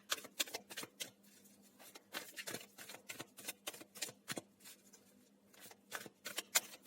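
Cards are drawn from a deck for a card reading, making soft, quick riffling and flicking bursts that come in an uneven rhythm, close and quiet, in an otherwise near-silent room.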